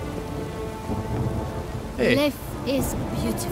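Steady rain and distant thunder in the Toussaint region of The Witcher 3: Blood and Wine, a continuous wash of falling drops under a voice speaking briefly.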